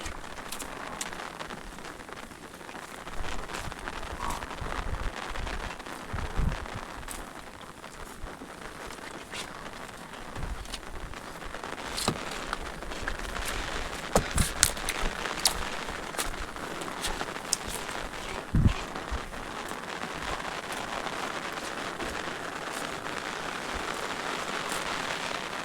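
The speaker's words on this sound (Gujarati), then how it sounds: "વરસાદ પડી ગયો છે સારો, મોટા સાટે વરસો" Steady rain falls heavily for the whole stretch, a dense continuous patter broken by a few sharper drips and knocks, close and loud with no voices.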